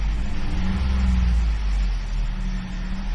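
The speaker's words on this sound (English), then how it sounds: "If I rev it up" A 2019 Ford F-150 with a 3.5L engine running rough and logging misfire and fuel pressure codes hums at idle and is revved slightly, a steady close engine drone with a mild rise in pitch.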